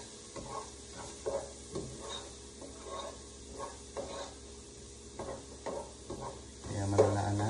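Onion, ginger and garlic frying in a pan, a soft steady sizzle under repeated scraping stirs of a utensil, fairly quiet and close, ending with a louder clink of cookware.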